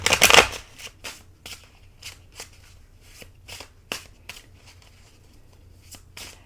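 A tarot card deck is shuffled by hand close up: one sharp riffle burst, then a dozen or so quick papery flicks and taps in an uneven rhythm, with no talking.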